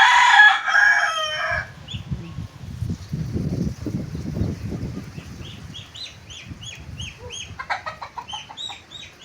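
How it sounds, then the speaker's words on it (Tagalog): A rooster crows loudly at the start, followed by low clucking and a series of short, higher chicken calls, all close by. "Ayan yung pulang manok na pula."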